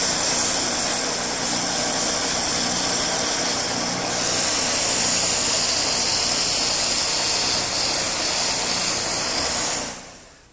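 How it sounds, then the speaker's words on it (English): A spinning wood lathe runs loud and steady while sandpaper of varied grits smooths a turned table leg, a continuous hissing whir that lifts slightly in brightness partway through and then cuts off near the end. "by increasing the speed of the lathe a little bit more and using a variety of different grits of sandpaper"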